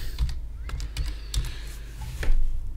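A few scattered keystrokes on a computer keyboard, entering a setting in Blender's add-on preferences, as irregular clicks with short pauses and a louder cluster near the end, close and moderately loud.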